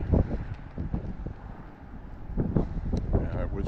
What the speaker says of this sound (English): Still windy today, not much, but it's there.